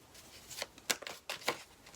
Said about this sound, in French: On va ensuite faire le tirage avec le tarot Sophie